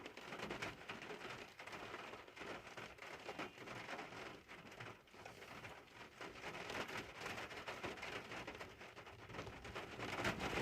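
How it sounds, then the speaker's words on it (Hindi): Steady rain patters down continuously at a hill viewpoint, a dense wash of drops on surfaces with no voices. "बारिश की बूंदों।"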